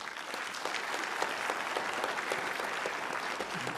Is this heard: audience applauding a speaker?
yes